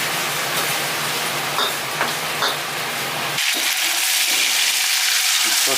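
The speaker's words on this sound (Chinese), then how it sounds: "倒入五花肉，给它煸一下，煸出来油脂。" Pork belly frying in a wok sizzles with a steady broadband hiss, with a few stirring scrapes; partway through the sizzle thins and quiets as the fat renders out.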